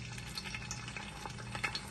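Bird's eye chilies frying in well-heated oil while making ivy gourd pickle give a quiet, steady sizzle with a low hum beneath it and a few soft crackles near the end.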